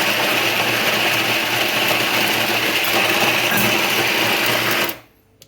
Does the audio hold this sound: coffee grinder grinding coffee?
yes